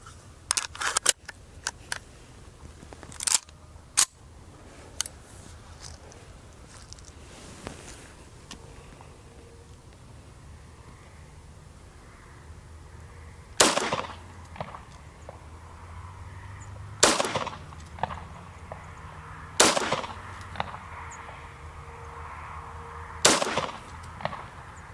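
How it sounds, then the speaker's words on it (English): Single shots from a Smith & Wesson 3906 pistol fired downrange outdoors, sharp cracks spaced irregularly a few seconds apart, some in quick pairs, with quiet gaps between. "Let's go take some shots downrange. First ever shots with the 3906."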